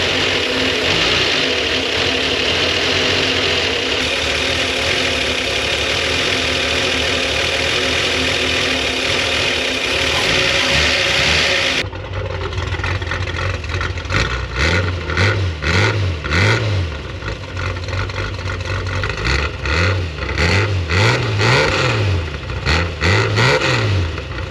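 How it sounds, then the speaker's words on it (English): A 1968 Plymouth Duster slant six with noisy solid lifters runs close by. It holds a steady loud drone at first, then shifts to a rougher run with a rhythmic ticking clatter and uneven pulsing, with no talk over it. "Noisy old solid lifters."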